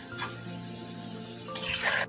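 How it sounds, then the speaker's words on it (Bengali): Raw potato French fries deep-frying in plenty of oil over a low flame, a soft, steady bubbling sizzle, close and quiet, with a faint utensil clink near the end. "এবার এটা লো ফ্লেম করে আস্তে আস্তে ভেজে নিতে হবে"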